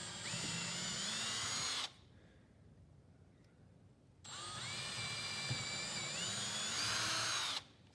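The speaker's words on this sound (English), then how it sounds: "just keep the drill bit spinning while you push it in and take it out." A power drill spins a bit through a wooden board in two long close bursts of whining motor and grinding, separated by a couple of seconds of quiet.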